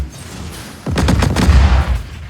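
Minigun on a spiked-wheel vehicle in Just Cause 4 opens fire after a short lull, producing a loud, rapid burst of booming shots that rolls on for over a second before fading.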